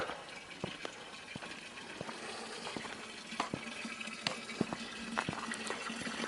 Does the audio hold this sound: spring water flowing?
yes